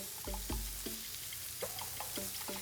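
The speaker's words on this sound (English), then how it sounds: "you can see how the melting fat makes the meat sizzle." Satay meat fries in its own melting fat, giving a soft, steady sizzle and crackle with a few light clatters of turning or stirring close by.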